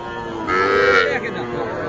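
At a rural livestock market selling young bulls and heifer calves, a single cow lets out one loud, drawn-out moo partway through, with faint background murmur around it.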